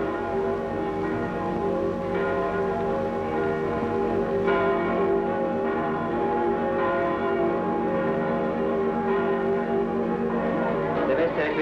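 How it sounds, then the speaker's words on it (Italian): Church bells ring continuously in a village, sounding an alarm with dense overlapping peals at a steady moderate level. "Date l'allarme anche con le campane nei paesi."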